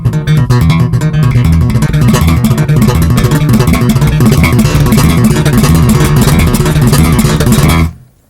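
Bass guitar playing major seventh chords in a rhythmic funk pattern using thumb and finger technique, loud and continuous with percussive attacks, ending abruptly after about eight seconds.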